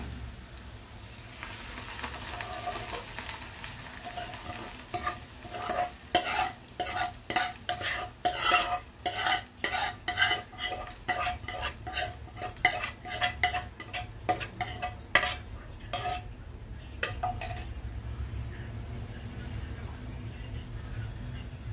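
Repeated scraping and clinking of a spoon stirring curd rice in a metal pot, irregular strokes over a steady low background, no talking.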